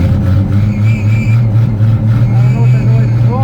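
Engine cold starting and running at -5F, a loud, close, uneven idle with a low throbbing drone and some fluctuation in speed, without speech.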